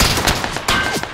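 Gunfire in a video game: a quick burst of several sharp close shots in uneven rapid succession, loud, with no voices over it.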